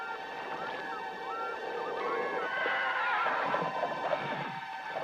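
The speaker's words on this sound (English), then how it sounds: "Some hear the sounds of ghostly horses hurtling up the stone stairs of a castle." Horses neigh and whinny over a sustained tonal background, several overlapping calls rising and falling across the clip, with faint hoof-like clatter beneath.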